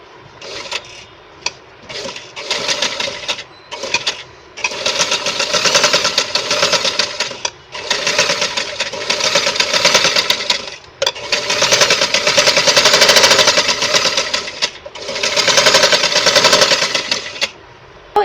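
A sewing machine stitches suit fabric in loud, steady bursts of rapid needle chatter. Short pauses break up the runs, probably where the cloth is turned, and the sound stands alone.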